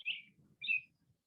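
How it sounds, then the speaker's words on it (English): Two short, high bird chirps a half second apart, faint and distant, over a quiet indoor murmur of low background sound during a community meeting. "I hear a bird"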